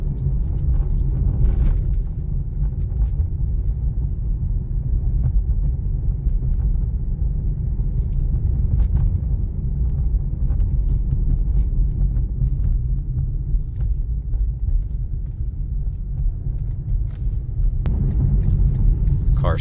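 A 2020 BMW M8 Competition cruises with a low, steady engine and road rumble heard from inside the cabin, easing briefly near the start and end as it shifts, without voices.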